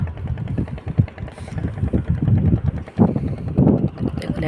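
A river boat's engine chugs with a low rumbling throb while the boat approaches on a Sundarbans river near Raidighi, loud and close with wind buffeting the microphone and a voice speaking over it.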